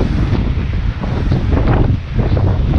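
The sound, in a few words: wind on a ship deck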